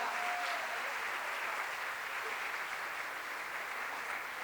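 Steady applause from an audience at a panel dialogue, even and moderately distant, continuing without a break and without voices over it.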